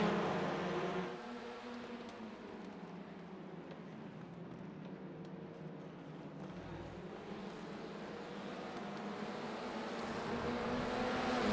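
Race cars from a touring car championship round at Daytona roar continuously past, a dense, steady engine drone that thins slightly mid-clip and swells again toward the end.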